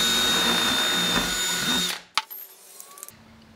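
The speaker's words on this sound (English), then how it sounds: "Drill all 4 of those holes out" A power drill boring holes for a DIY laptop desk in a Subaru Outback whines loudly and steadily for about two seconds, then stops, followed by a few faint clicks and handling noises.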